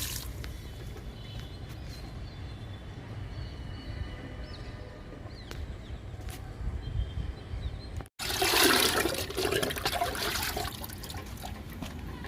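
Homemade liquid fertilizer of oats and kitchen waste poured onto a flowering guava plant: steady soft watery rush throughout, swelling into a louder splashing pour near the end.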